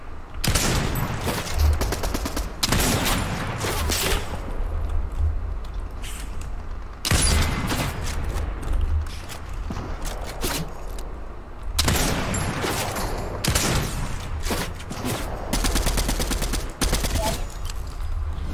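Dense gunfire rattles through a Fortnite Battle Royale match, rapid bursts of shots and sniper cracks coming in waves with short pauses between them, loud and close throughout.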